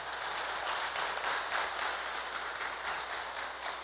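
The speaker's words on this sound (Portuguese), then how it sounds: "Venha, Breda, uma salva de palmas" Faint, distant applause rises from the audience at a Progressistas political meeting in Veranópolis, a soft continuous patter of clapping heard across a large room.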